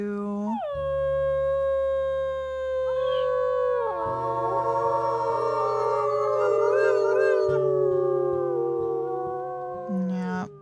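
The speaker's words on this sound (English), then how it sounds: "Oh, and there's Burn howling too." Several wolves in the video game WolfQuest howl together in long, sustained, overlapping tones that glide and shift in pitch, loud and close, continuing unbroken with no talking.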